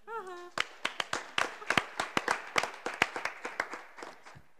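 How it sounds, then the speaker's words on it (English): A small group claps at a school committee meeting, a few dozen sharp, separate hand claps spread over several seconds, moderately close, with a brief voice at the start. "I just wanted to have a round of applause for Megan Parks being the vice chair."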